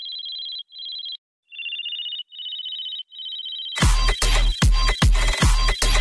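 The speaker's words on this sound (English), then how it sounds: "let's frequency shift this phone bass around" A dubstep production sound: a phone-like synth tone rings in short repeated bursts, its pitch shifting slightly between them, then gives way to loud, dense, frequency-shifted bass hits in a choppy rhythm.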